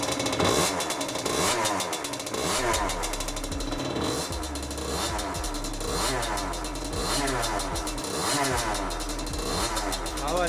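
A Gilera SMT 50cc motorcycle engine idles nearby with a buzzy, uneven two-stroke putter that holds steady throughout, with no talking over it.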